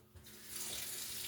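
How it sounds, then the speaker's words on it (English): Cold tap water pours steadily into a kitchen sink to rinse cooked macaroni, starting with a faint trickle and swelling into a loud, even rush of splashing water. "Alright, so now I'm just going to rinse this with cold water."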